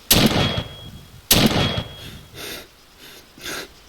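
Rifle fire of 5.56 and 7.62 rounds in the video game Arma: two loud, sharp gunshots about a second apart, each followed by a short decay, then two softer breathy wheezing sounds.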